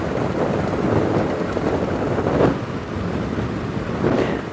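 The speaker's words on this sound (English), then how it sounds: "it's so windy here, it's become difficult to hear the questions coming through" Strong wind roars across the microphone on an open safari drive toward the plains at sunrise, a steady loud buffeting rush with gusts swelling and fading, no voices.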